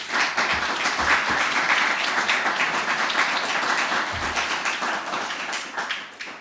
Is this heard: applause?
yes